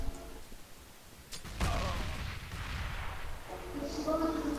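Gunfire in CS:GO on the de_dust2 map at a competitive match: a sudden burst of shots, then a continuing rumble of firing and clatter at moderate loudness.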